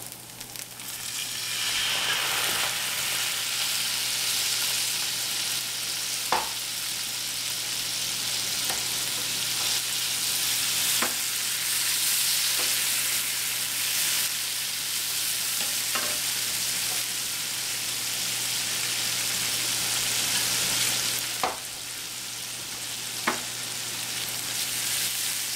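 Shrimp with garlic frying in a pan, sizzling loudly and steadily throughout, with occasional sharp clinks from stirring and no voices.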